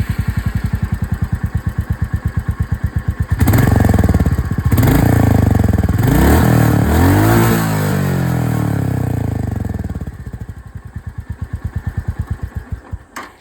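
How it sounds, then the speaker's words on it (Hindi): A Royal Enfield Meteor 350 single-cylinder engine with chrome exhaust idles with a steady close thump, then is revved several times, each blip rising and falling before it settles back to an even idle. "अब मैं आप लोगों को यहाँ पर जो रॉयल एनफील्ड मीटियोर 350 की आवाज़ है वो भी सुना दूँ"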